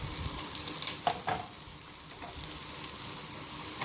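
Carrots and other vegetables sizzle quietly as they are stirred and sautéed in a pan, with a couple of brief scraping stirs over a soft steady frying hiss.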